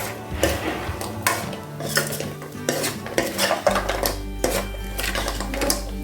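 Chilli idli pieces stirred in a pan, a busy stream of metal spoon scrapes and clanks against the pan in quick irregular bursts, close and loud, over a low steady hum in the second half.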